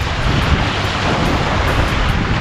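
Continuous broadband roar of ocean surf washing onto the beach at St. Andrews State Park, Panama City, Florida, loud and close, with wind buffeting the microphone.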